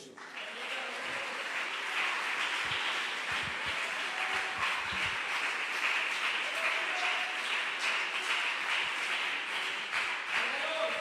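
Congregation applause at a Colombian church service in Valledupar, a dense steady clapping that runs the whole stretch at even loudness, with a few voices calling out faintly underneath.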